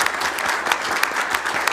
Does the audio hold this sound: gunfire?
no